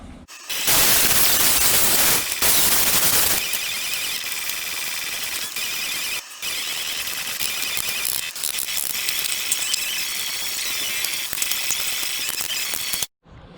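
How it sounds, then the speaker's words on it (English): Angle grinder cutting the aluminum backing off poly fenders on a RAM 4500 chassis cab, a loud continuous harsh whine that runs almost the whole time with a couple of brief pauses. "take the angle grinder and just go ahead and cut them right off"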